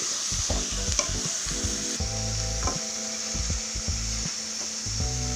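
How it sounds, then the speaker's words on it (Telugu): Green beans frying in a pan with grated coconut, stirred with a utensil: repeated scraping strokes against the pan over a continuous sizzle, close and clear. "ఇప్పుడు బీన్స్ మొత్తం బాగా తిప్పుకుందామండి."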